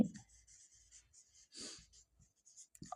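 Chalk or marker scratches out a formula on a classroom board in short strokes with brief pauses, close and fairly quiet, with no talking.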